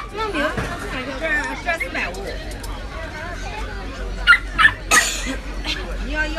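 Small puppies at a busy dog market yip and whimper in short bursts close by, while people chatter in the background.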